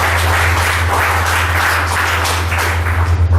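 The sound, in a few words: applause, a round of clapping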